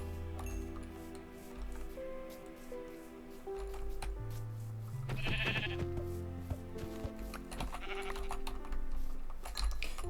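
A sheep bleats a few times in a video game, the calls standing out over a steady background of sustained tones with occasional soft clinks.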